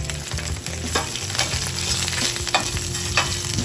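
Pieces of Italian sausage browning in a pan at a pizza bar kitchen, a continuous close sizzle with rhythmic stirring and scraping knocks of a utensil against the pan, no talking.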